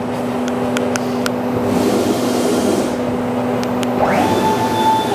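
Maglev large-format cutting machine running with magnetic X and Y propulsion, a loud steady mechanical hum with a constant tone, sharp repeated ticks, and a rising whine near the end as the head moves fast.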